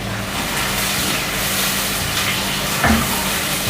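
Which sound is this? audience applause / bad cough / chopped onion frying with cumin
chopped onion frying with cumin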